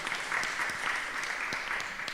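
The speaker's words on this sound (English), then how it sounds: "And you may applaud both candidates for their opening statement." Applause from the audience at a mayoral candidate forum in Athens, a soft, steady patter of many hands clapping, distant and fairly quiet, with no one speaking.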